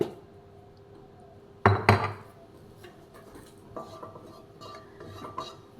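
A spoon scrapes and clatters around a kadai while ghee and oil are stirred together, with a sharp burst of metallic knocks early on and lighter scraping clinks afterward.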